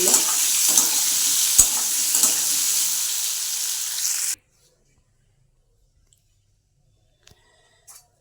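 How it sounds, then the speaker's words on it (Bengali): Potatoes frying in hot oil for a hotel-style aloo dum give a steady, dense sizzle with a few stirring knocks, which cuts off abruptly after about four seconds and leaves near silence with a couple of faint clicks. "আর তেল গরম হয়ে গেছে আলুগুলো একটু ভেজে নেব"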